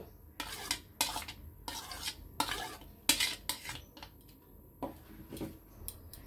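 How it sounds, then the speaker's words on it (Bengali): Onion, green chilli, coriander and tomato being mixed together in a bowl, with soft scraping and clinking strikes at an uneven rhythm, close and fairly quiet, with no talking. "সবটি পেঁয়াজ, কাঁচা লঙ্কা, ধনেপাতা এবং টমেটো একসাথে মিশিয়ে নেব।"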